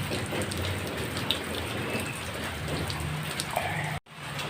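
Steady rain falls on a wet morning, a dense continuous patter of drops hitting surfaces, with a brief cut near the end before the rain resumes.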